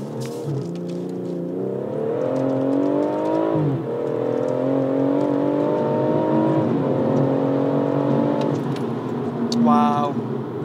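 A high-powered rear-wheel-drive car on Michelin Pilot Sport 5 tyres, in Sports Plus mode, accelerates hard on a wet road. The engine note climbs through several gear changes, loud and continuous, with a brief voice near the end.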